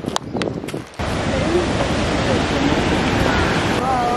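Ocean waves break and surge along the shore at Cefalù, Sicily, a loud continuous wash of surf with wind buffeting the microphone; a few brief voices come just before the roar swells in.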